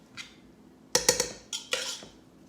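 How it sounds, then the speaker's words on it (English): A spoon scraping and clattering against a pot while ground beef is stirred for New Orleans dirty rice, with a few sharp metallic clinks in two quick bursts, close and fairly loud over a quiet background. "So just mix that around."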